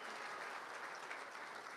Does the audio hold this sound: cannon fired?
no